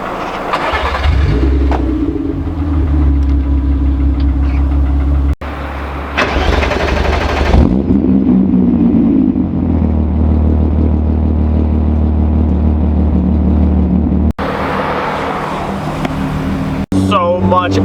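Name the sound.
Mk3 Volkswagen Golf engine starting and revving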